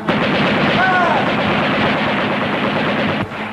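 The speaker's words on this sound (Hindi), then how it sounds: "फायर जवानो फायर" Gunfire sound effect in a Hindi radio drama battle scene, a loud, dense, continuous burst of rattling shots filling the whole clip, close and harsh, with no talk over it.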